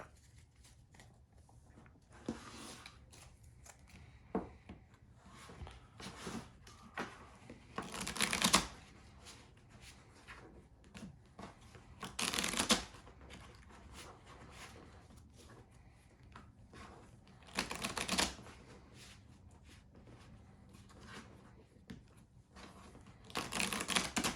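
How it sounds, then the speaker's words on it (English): Deck of cards for a pro wrestling promoter tabletop game being shuffled by hand, with several bursts of riffling and snapping cards at intervals alongside quieter handling and shuffling between them, close up with no talking. "Okay, so that's hopefully a good shuffle there."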